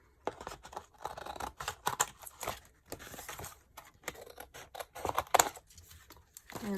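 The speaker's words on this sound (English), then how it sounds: "I'm just going to use my scissors to trim off the" Scissors trim the edge off a page of scrapbooking paper, making a run of quiet, close snips in an uneven rhythm with brief pauses.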